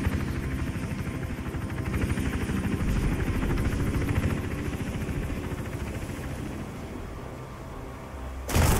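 A helicopter from the video game Hitman Absolution thrums close and loud with a steady, fast rotor chop that lasts almost the whole stretch, then cuts off into a short burst of broadband noise at the very end.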